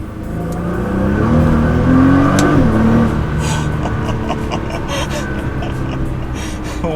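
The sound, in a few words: sports car accelerating hard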